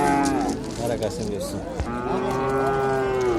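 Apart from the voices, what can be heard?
cattle mooing at a livestock market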